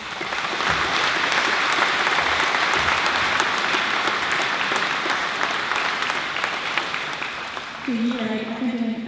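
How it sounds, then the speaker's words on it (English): Audience applause at a school awards presentation, a dense, steady roar of many hands clapping that runs unbroken for about eight seconds before a voice begins to speak near the end. "Could you please give the students a round of applause?"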